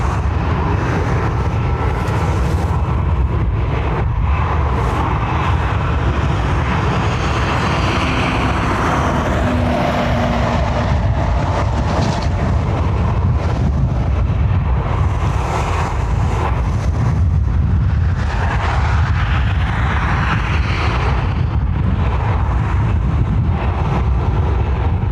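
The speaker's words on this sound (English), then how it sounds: "Ryanair off to Amsterdam." A Ryanair jet takes off from Dublin Airport bound for Amsterdam, a sustained loud engine roar that swells and eases over time, with heavy wind buffeting on the microphone.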